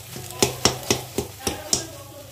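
A spatula taps and scrapes through pointed gourd stuffing in a pan in about six regular, evenly spaced strokes over a faint sizzle.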